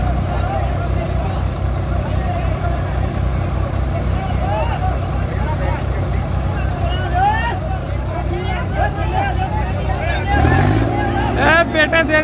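Swaraj 742 XT tractor engine roaring steadily at a tractor pulling contest, a loud continuous diesel drone with a crowd murmuring throughout and a sharper surge of revving near the end.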